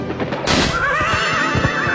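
A horse in the anime One Piece whinnies loudly with a high wavering neigh, over busy hoof beats and galloping clatter, alone with no talk.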